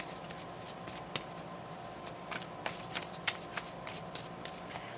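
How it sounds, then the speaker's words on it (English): Tarot cards being shuffled by hand in quiet, soft riffling bursts with a few sharper flicks and taps, close up and low in volume. "Let's get one more shuffle here."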